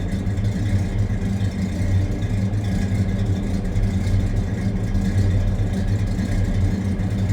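A 1955 Pontiac Safari station wagon engine idles steadily with a deep, rumbling, slightly lopey low end, close by and continuous throughout, no voices.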